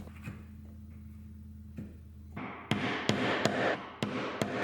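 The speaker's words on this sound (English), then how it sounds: "Make the line even more defined with the chisel and mallet" Steel chisel struck by a wooden mallet while paring a half-blind dovetail in wood: about six sharp, evenly spaced knocks, close and fairly loud, following a few softer taps.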